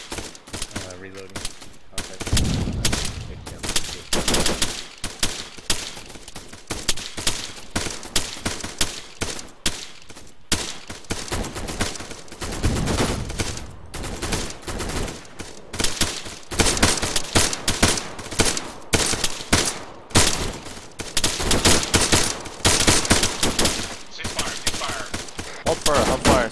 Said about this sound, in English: Hold fire, ceasefire.